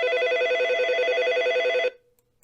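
A telephone rings loudly and close with a rapid trilling electronic bell tone, sustained for under two seconds before cutting off abruptly into silence.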